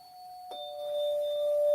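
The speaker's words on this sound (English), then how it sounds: "That sounds like a doorbell" A doorbell-style electronic chime: a steady tone, then a second tone struck at about half a second that rings on and slowly fades, in a quiet room.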